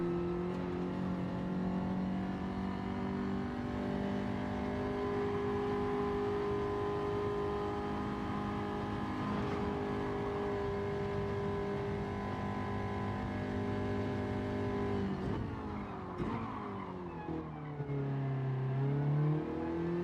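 Race car engine in Gran Turismo 7 during a time trial, a loud sustained high-revving drone that holds steady, then drops in pitch around a braking point before climbing again as it accelerates, with no talk.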